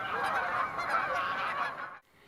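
A goose honks in flight, one long continuous nasal call held close and loud for about two seconds before cutting off abruptly.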